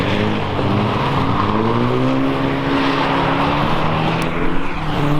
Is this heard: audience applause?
no